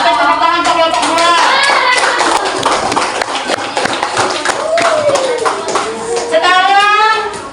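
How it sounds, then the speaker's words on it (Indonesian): Steady applause from a class group fills the clip, with children's voices chattering and shouting over the clapping throughout. "tepuk tangan untuk kelompok 2"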